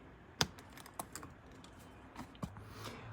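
Cutters snip through roof wiring on a Mercedes R230 SL55 with a stuck roof, giving a few sharp, close clicks spaced apart in a quiet space.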